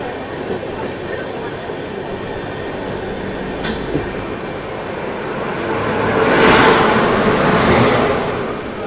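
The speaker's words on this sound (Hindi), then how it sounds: "यशवंतपुर गोरखपुर एक्सप्रेस ट्रेन है, इसको ओवरटेक करके अभी हम लोग माजरी जंक्शन से आगे निकल रहे हैं।" An express train running on rails near Majri Junction after overtaking the Yesvantpur–Gorakhpur Express, heard from on board as a continuous rumble and clatter that swells into a louder rushing roar before easing off.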